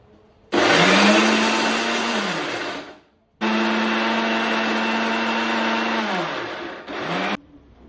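Mixer grinder grinding a coconut and garlic paste, two long loud bursts of high motor whine, each winding down, followed by a short third pulse, close and without talk.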